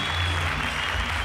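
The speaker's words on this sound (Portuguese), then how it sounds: "E mais uma salva de palmas para a nossa Fritadete." An audience gives dense, steady applause for Fritadete, a continuous wash of many hands clapping at even loudness with no voice on top.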